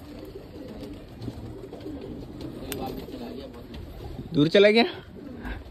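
Newly released pigeons calling near a group of people, with a brief louder burst of cooing toward the end while people talk throughout.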